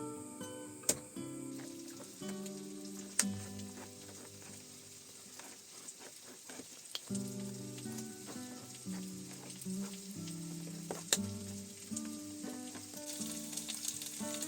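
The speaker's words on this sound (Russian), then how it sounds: "сначала добавлять картошку, а потом пробовать" Potatoes frying in a pan in a dugout shelter in Chuvashia, a steady loud sizzle running throughout with sharp pops and crackles scattered on top, no talking.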